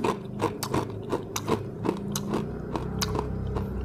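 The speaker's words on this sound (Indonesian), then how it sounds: "Nih, ini mie sangat kriuk banget." Someone bites and chews a crunchy Boncabe Mi Krispi fried noodle snack, a rapid series of sharp, dry crunches in an irregular rhythm, close and loud, with no talking.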